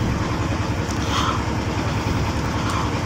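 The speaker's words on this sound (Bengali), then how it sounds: "তো ট্রলারের মধ্যে আছি" A trawler boat's engine drones steadily and loudly close by, a dense low rumble with a quick, even chugging pulse that holds throughout.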